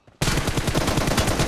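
Rapid gunfire from a video game erupts after a brief quiet start, a dense, loud burst of repeated shots running steadily to the end with no talk.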